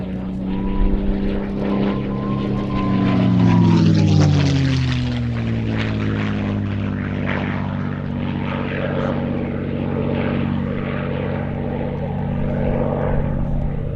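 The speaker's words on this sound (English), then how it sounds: "this aircraft, now in the colours of the famous 4th Fighter Group of the US 8th Air Force" A propeller-driven fighter aircraft in the colours of the US 8th Air Force's 4th Fighter Group flies past at an airshow, a loud, sustained engine drone that swells, shifts in pitch and then holds steady as it passes.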